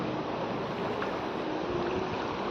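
Water overflowing from Chandreshwar Mahadev (Bhangeshwar) lake, a continuous loud rushing roar with no pauses and no voices.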